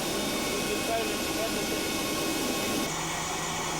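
An Antonov AN-124 builds a broad, steady jet roar and hiss as its four engines throttle up, loud and continuous, then shifts in tone near the end, with a voice speaking over it.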